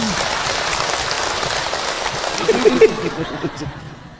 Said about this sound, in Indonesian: Boleh ibu tepuk tangan untuk Ahilman.